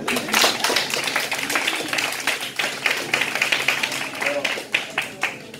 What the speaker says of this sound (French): Alors, on applaudit encore.